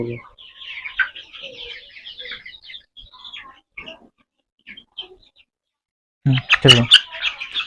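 Chickens in a small poultry house being given fowl pox vaccine cluck and squawk nearby in scattered bursts, fading to near silence before a louder, agitated outburst at the end.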